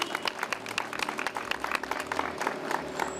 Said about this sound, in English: Give them a great hand clap for this grand opening.